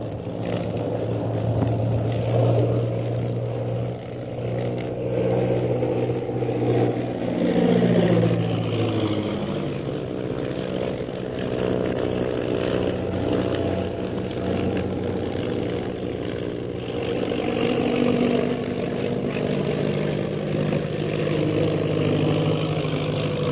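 A droning propeller airplane engine drones steadily through an old radio drama about aerial combat, a continuous mid-pitched hum with slow pitch shifts as the plane maneuvers, heard without talk.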